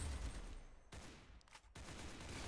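SMG fire in a Roblox shooter crackles as rapid, dense bursts of gunshots, faint and distant, with a couple of brief gaps between volleys.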